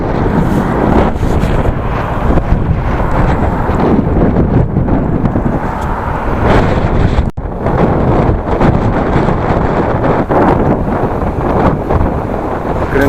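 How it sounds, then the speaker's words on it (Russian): Strong wind roars and buffets the microphone nonstop, loud and gusty, with a brief dip in the rush midway. "Ветер ненормальный вообще."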